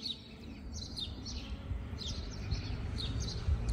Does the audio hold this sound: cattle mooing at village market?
no